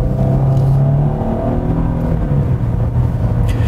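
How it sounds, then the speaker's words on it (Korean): A Genesis G80 engine pulls hard at full throttle on a winding night road, a loud, steady, rising drone heard up close inside the cabin with no talking. "이제 페이스를 이제 올리겠습니다. 풀악셀입니다."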